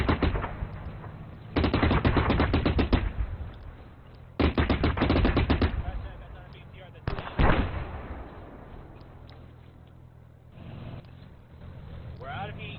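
Anti-tank gun firing HE rounds at a BMP in a military video game, heard as several loud bursts of rapid, cracking gunfire separated by quieter gaps, close and dominant, with people talking over the action.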